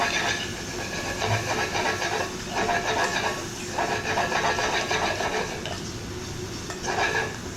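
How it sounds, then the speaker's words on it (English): Minced garlic gets a quick stir in a hot pan for a filling, a loud scraping, rumbling churn in uneven bursts over a constant sizzle, with no talking. "Quick stir."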